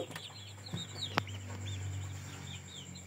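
Chickens, including large imported Indio Gigante birds, kept in a converted storeroom, give scattered soft clucks and short calls over a steady low hum, close by and moderately loud.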